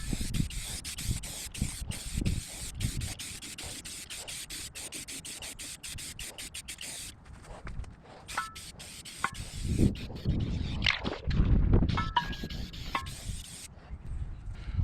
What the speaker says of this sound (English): So I'm going to try to paint this as best I can.